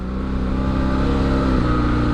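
A customized motorcycle fitted with a custom exhaust, a Power Commander with auto tune and a Scott steering damper idles loudly and close, its engine note steady and throbbing, with a slight rise late on and no voices.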